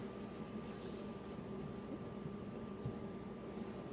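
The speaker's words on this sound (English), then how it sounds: "I'll go ahead and put my seasoned chicken in there to fry" Seasoned chicken pieces frying in a hot pan, a steady close sizzle and crackle of oil running evenly throughout with no voices.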